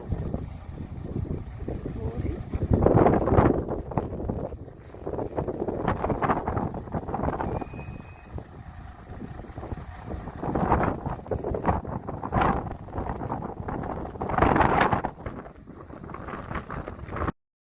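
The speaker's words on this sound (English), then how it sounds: "but it's so windy. Pretty windy today." Strong wind on the Greek island of Paros buffets the microphone in heavy gusts, rumbling and roaring continuously with louder surges, and no clear speech.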